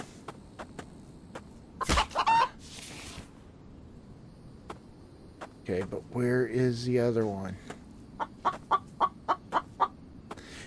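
Chickens clucking in a trap in the survival game The Infected, a few short clucks and scratchy game sounds heard near, interleaved with speech from people talking.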